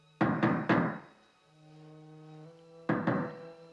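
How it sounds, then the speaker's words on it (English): Knocking on the main front door downstairs in a Hammer Frankenstein film: a quick burst of three loud knocks, a held tone, then two more knocks. "there's knocking on the front door"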